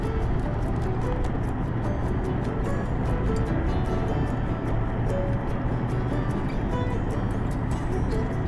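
A vehicle drives along a bumpy desert dirt road, Dome Rock Road, into Quartzsite. A dense, unbroken rumble of engine and road noise holds loud and steady the whole time, with no pauses.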